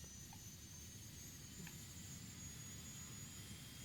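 An aircraft taking off in Microsoft Flight Simulator, a steady low jet-engine roar with a thin high whine, continuous and unchanging, with no voices.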